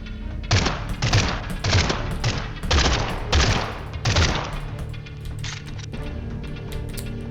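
Gunfire rattles through a combat scene in the 5th Dimension video game, a run of dense bursts of shots with deep thumping low end, steady and loud for several seconds before easing into a fainter background din.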